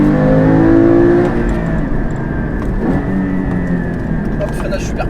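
Porsche Cayman GT4 accelerating hard on the 24 Hours circuit, engine note climbing loudly at first and then holding a steady drone with road roar, while a driver talks over it from inside the car.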